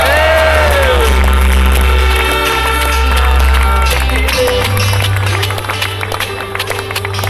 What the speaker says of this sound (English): big cheer for Andy Parry